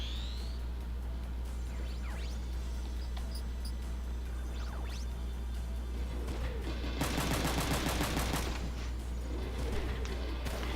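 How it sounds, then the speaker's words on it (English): Enemy machine gun fire in the mech strategy game Front Mission 3, heard as a rapid burst of rattling shots partway through, moderately loud over a steady low game hum with faint effects around it. "Yeah, you can see the enemy there uses the machine gun"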